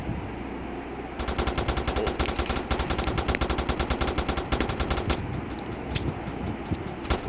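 Rapid automatic gunfire in a gangster crime video game rattles steadily for several seconds, a dense fast stream of shots that stops abruptly, followed by a few scattered single shots.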